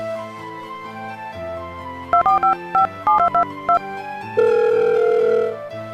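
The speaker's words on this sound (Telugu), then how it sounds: "ముందు సుబ్బారావు గారికి ఫోన్ చేద్దాం." A telephone number is keyed in with a quick run of DTMF beeps in irregular bursts, then a steady ring tone sounds for about a second, all over soft background music.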